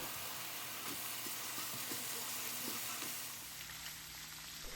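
Minced beef sizzles steadily in hot vegetable oil in a pan, with occasional stirring clicks, and the hiss shifts and eases slightly after red cooking wine is added.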